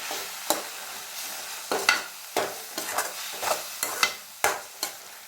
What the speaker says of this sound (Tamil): மிளகாய்த்தூள், மல்லித்தூள், எல்லாம் சேர்த்து நல்லா கலந்துக்கலாம்.